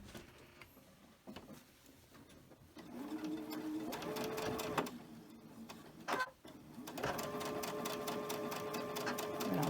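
A sewing machine stitches quilt pieces for a Halloween mystery quilt, its needle running in steady fast rhythmic bursts with brief stops between runs, close and continuous with faint background hum.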